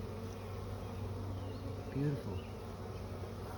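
Honeybees buzzing in an open hive colony during an inspection, a steady close drone throughout with a brief louder swell, while a person speaks briefly over it.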